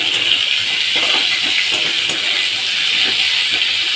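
Vegetables fry lightly in a pan with spices, a continuous loud sizzle and hiss broken by small crackles and the odd stir, with no voices.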